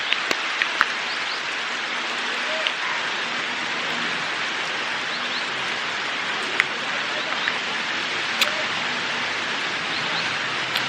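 Steady rain falls near a temple on a trek in Nepal, a dense, even hiss with occasional louder drips and taps scattered through it, heard alone without talk.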